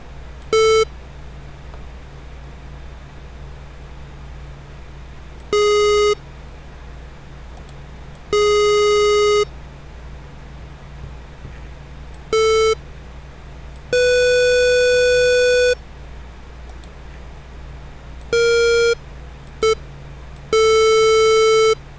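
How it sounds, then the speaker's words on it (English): Bursts of buzzy square wave tones from a synthesizer, about nine separate notes of varying length and pitch with silent gaps between, over a faint low hum. "I'm just gonna fiddle around with the square wave because I love it"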